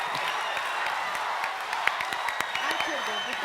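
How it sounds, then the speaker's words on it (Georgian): Audience applause at a live X Factor Georgia concert: a dense, steady wash of clapping and crowd noise with a few sharper peaks, sustained throughout. "აპლოდისმენტები მეტი კიდე მეტი"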